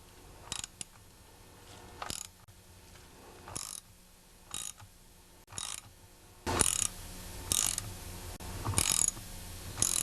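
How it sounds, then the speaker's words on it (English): Ratcheting, clicking mechanical turns of a Pioneer 11-60 chainsaw crankshaft as the nut is tightened, in a series of short bursts that come closer together and grow louder toward the end, with no talk. "I'm going to tighten the nut and turn the crankshaft to see how the points function."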